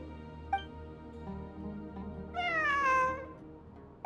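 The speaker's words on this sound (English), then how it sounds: "It really is a cat." A cat meows in the Genshin Impact video game, one faint short call followed by a longer, clear, drawn-out meow, heard alone over quiet background ambience.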